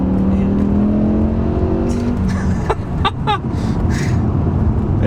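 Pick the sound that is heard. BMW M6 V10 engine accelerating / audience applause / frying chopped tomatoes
BMW M6 V10 engine accelerating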